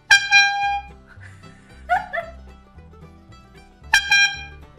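A novelty honk horn sold as a Valentine's gift squeaks out three loud, separate rubber-bulb honks, with quiet pauses between them and no talking.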